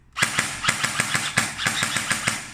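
Rapid burst of Nwell M405-series airsoft gun fire on full auto, sharp evenly spaced cracks running for about two seconds, loud and close.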